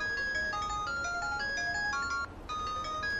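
A mobile phone rings with a bright electronic melody of stepped tones. It repeats steadily with one brief gap and no voices over it.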